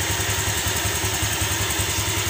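A motorcycle with a modified knalpot exhaust idles steadily nearby, giving a continuous low rumble with an even, rapid pulsing throughout and no other sounds.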